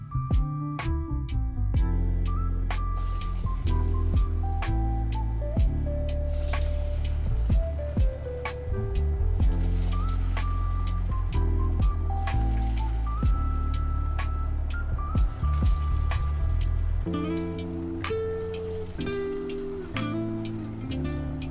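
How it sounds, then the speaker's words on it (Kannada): Sabudana vada (sago patties) fry in hot oil over a medium flame, giving a continuous light crackle and pops that sit beneath fairly prominent melodic background music. "ಎಣ್ಣೆ ಕಾದಿದ ತಕ್ಷಣ ಇವಾಗ ಕರಿಯೋದೇ ಕೆಲಸ."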